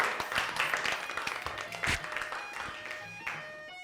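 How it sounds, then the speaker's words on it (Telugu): Audience applause for a contestant on a Telugu women's entertainment TV show: a dense burst of many hands clapping that swells briefly near the middle and then slowly tapers, fairly close and alone without talk. "మనం అందరం ఒకసారి గట్టిగా సుమేఘ గారికి క్లాప్స్ కొడుతూ"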